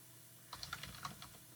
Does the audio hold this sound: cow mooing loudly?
no